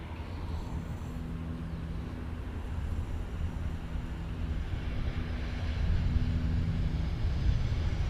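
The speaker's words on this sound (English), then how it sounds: "Jetstar 320 now about to land. Runway 15 from the north." A Jetstar A320 airliner lands on runway 15 at Cairns Airport after a service from Sydney, its engines a broad, steady roar heard from a distance with wind buffeting the microphone, growing slightly louder toward the end.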